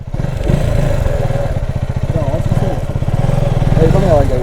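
Motorcycle engine idling and pulling away in first gear on a mountain route from Ilam toward Sandakphu, a steady close mid-pitched drone with rising revs, with people talking over it.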